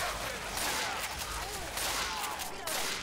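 Gunfire in the video game Left 4 Dead 2, a dense continuous barrage of rapid shots and game chaos that stays loud throughout, with players' voices mixed underneath.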